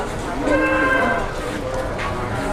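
Jumbo cattle low amid a busy outdoor crowd at Jelok livestock market in Boyolali, Indonesia, their drawn-out calls rising over steady background chatter and noise.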